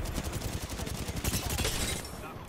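Dense rapid gunfire and blasts in a shooter video game around a grenade detonation, a continuous rattling volley at moderate loudness that eases off near the end.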